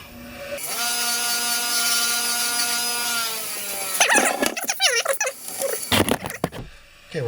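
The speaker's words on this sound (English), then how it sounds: "Now over to the grinder with it." A grinder working on a homemade valve lapping tool, a steady high whine with harmonics, then rough scraping and chattering bursts as metal meets the wheel, fairly close.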